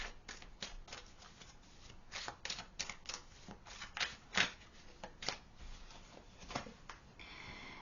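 Tarot cards being shuffled by hand, a quiet close-up run of soft papery riffles and flicks that comes in irregular quick bursts with no talk.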